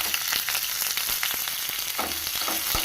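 Green chilies hit hot tempering oil already holding finely chopped ginger. A steady, close crackling sizzle fills the whole stretch, broken by sharp clicks and scrapes of stirring.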